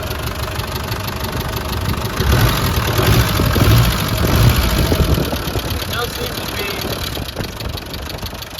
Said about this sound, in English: a slight tick the back of the engine. Sounds like it's coming from the upper end, not the lower end